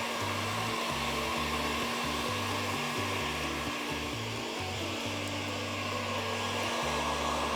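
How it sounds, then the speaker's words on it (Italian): A heat gun blows hot air to set fresh paint on an old wooden cabinet being restyled. It gives a steady, close, fan-driven whoosh with a low motor hum that wavers in short pulses, and no talking. "vado a fermarlo con il phon termico"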